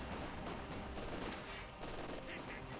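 An MG42 machine gun rattles in Company of Heroes 2, its bursts of rapid gunfire sitting among other battle noise in a dense mix. The level is fairly low and a voice can be heard faintly in the background.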